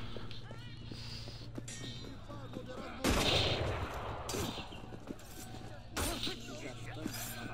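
Gunfire rings out in Assassin's Creed Unity. Loud, sharp bursts land around 3 and 6 seconds over game ambience, with a few fainter shots between them.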